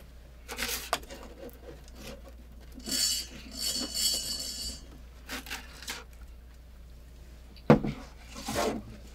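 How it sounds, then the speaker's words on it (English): A margarita glass rim is rubbed in salt for a Buckeye margarita made with Patron Reposado, giving short gritty scraping and rasping bursts with a few glassy clinks, close and fairly quiet between pauses. "we are gonna salt the glass only because I love salt on my rim"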